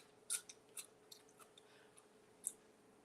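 Raw chayote squash is bitten and chewed, giving several short, crisp crunches spaced irregularly over a few seconds, close and fairly quiet with no talking.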